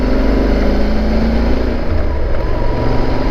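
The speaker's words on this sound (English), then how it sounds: "I'm trying to be smooth, especially with the shaft drive making that noise." Yamaha Super Tenere motorcycle on the move with a failing shaft drive: a loud, steady engine drone mixed with wind roar, close up and unbroken throughout, with the drivetrain noise blended into the rumble.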